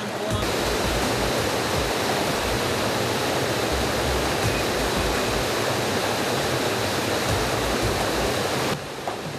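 A flooded river at the Laja spring in Pinar del Rey rushes hard over the submerged fountain, a loud unbroken roar of water lasting several seconds before it cuts off.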